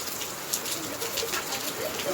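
The season's first rain falls in a village on 5 June as a steady, even hiss of drops, with faint bird calls in the background.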